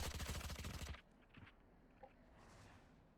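Rapid burst of gunfire in a Legends map of an esports match, loud repeated shots for about a second, then quieter scattered in-game sounds and faint footsteps.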